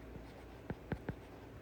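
A pen or pencil on paper makes three short, distinct scratching strokes in quick succession, close but quiet against a soft hiss, with no talking.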